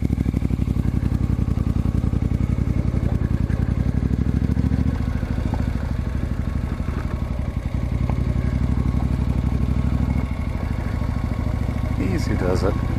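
A 1972 Moto Guzzi motorcycle engine runs steadily on a gravel backroad in Eastern Ontario, with a close, loud, throbbing mid-pitched rumble and slight shifts in load throughout, plus a brief clatter near the end.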